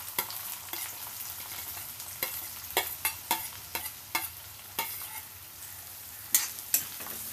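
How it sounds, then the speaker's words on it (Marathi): Onion frying with green chillies and garlic crackles softly in a pan while a spoon stirs, giving a run of irregular scraping knocks over a faint sizzle, without speech. "आणि हा कांदा लालसर होईपर्यंत भाजून घेऊया।"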